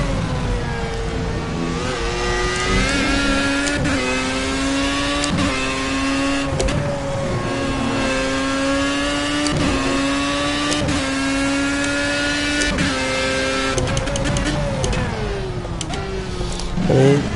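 Formula A open-wheel race car engine in Project CARS, a loud continuous high-revving whine with stepped pitch drops as it shifts quickly down through the gears, holding steady between shifts.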